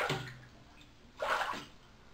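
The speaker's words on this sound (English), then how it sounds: "This one spits water forward when you jerk it." A topwater fishing lure with a specially shaped mouth spits water forward each time it is jerked, giving two short splashy bursts a second apart, fairly close, with quiet between them.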